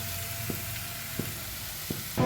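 Shyama rice stirred in a hot pan over a medium flame, a steady close sizzle with soft periodic scrapes of the spoon, ending in a louder clatter.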